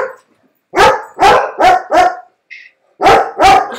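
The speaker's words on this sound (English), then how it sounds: "The dogs are a little agitated tonight" Dogs bark close and loud at night in an agitated volley: four quick barks, a pause, then two or three more in a row, with no other sound around them.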